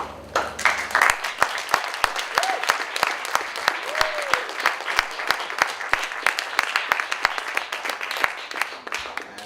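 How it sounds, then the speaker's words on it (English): A press conference audience gives sparse, uneven applause, with individual sharp claps spaced irregularly over about nine seconds, fairly quiet, with a faint voice or two in the room. "I would like to give a round of applause to all the working groups."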